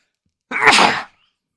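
A single loud sneeze bursts out close by after a moment of silence, then quickly fades.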